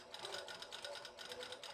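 Sewing machine stitching a skirt lining and waistband close to a zipper, a steady rapid needle chatter that runs continuously at close range with no talking.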